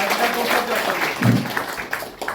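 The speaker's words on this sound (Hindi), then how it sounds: "एक बार जोरदार ताली बजा के स्वागत करेंगे।" Audience at an election campaign meeting clapping to welcome a Congress party candidate, a brief burst of applause heard under a man's continuing speech.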